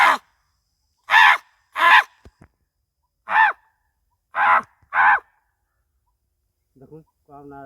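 A crow gives a series of harsh caws, five loud bursts spaced unevenly over several seconds, close and clear against silence, with a brief faint rasp near the end.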